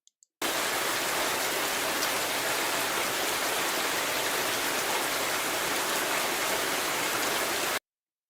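Steady rain sound effect played back in Unity's audio folder, a dense continuous hiss of falling rain that starts abruptly and cuts off cleanly after about seven seconds, with no voices over it.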